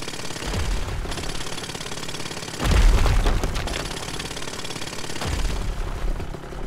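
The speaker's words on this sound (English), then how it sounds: "Jackhammer is awesome, dude." A jackhammer in the survival video game The Front pounds away in a steady, rapid, loud rattle, swelling into a heavier burst of impacts partway through, with no talking over it.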